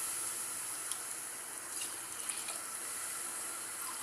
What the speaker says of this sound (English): let us pour 3 glasses of coconut milk mixed water to the rice